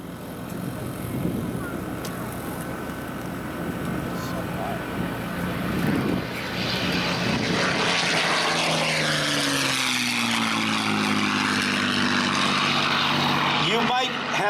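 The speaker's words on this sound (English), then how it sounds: "This is a very rare sound indeed, the P-51C Mustang from the Commemorative Air Force." P-51C Mustang propeller warplane passes at an air show, its engine drone swelling from a distant rumble into a loud, broad roar with a falling pitch sweep as it goes by over a noisy crowd and a talking voice.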